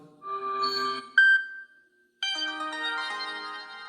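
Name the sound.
Samsung phone notification sound preview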